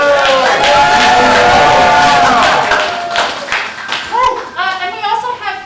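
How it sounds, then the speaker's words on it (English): Applause and cheering from an improv theatre audience at a Theatresports show, loud at first and tapering into scattered claps, with voices and shouts mixed in. "big round of applause"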